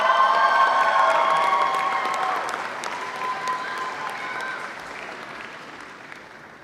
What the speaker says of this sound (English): Please join me in applauding these hardworking students.